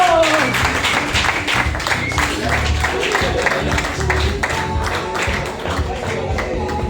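A crowd applauds at a live event in Mataró, a loud, dense wash of clapping that stays steady throughout with some voices mixed in.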